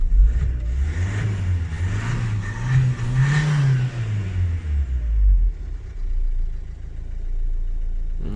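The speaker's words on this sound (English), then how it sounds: "It's cold start. So we'll rev up it a little bit." A car engine on a cold start revs up in a few rising and falling swells over a low idle, then drops back to a steady idle, close and without talk.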